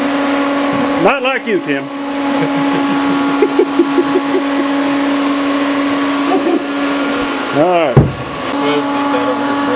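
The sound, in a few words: vacuum sucking up bees during bee removal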